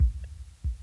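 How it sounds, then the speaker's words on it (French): A slow heartbeat thumps low and close, two to three muffled throbs spaced widely apart with quiet gaps between them. "Mes battements de cœur ralentissent."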